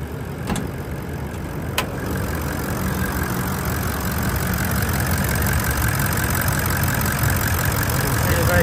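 2022 Toyota Land Cruiser 79 series GXL dual cab engine idling steadily with the bonnet open, an even mid-pitched hum with a couple of faint ticks early on, no talking.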